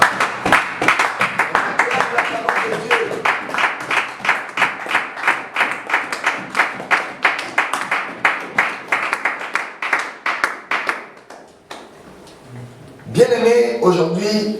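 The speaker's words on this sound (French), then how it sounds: "On acclame la parole de Dieu." A church congregation claps together in a steady, even rhythm for about eleven seconds, loud and close, then the clapping stops and voices follow.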